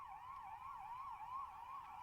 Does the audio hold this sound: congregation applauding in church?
no